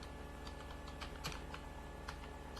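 Rapid keystrokes on a computer keyboard while a MongoDB insert command is typed in, a steady run of light, close clicks with no voices.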